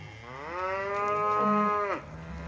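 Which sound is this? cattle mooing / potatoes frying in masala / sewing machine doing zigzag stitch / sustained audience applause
cattle mooing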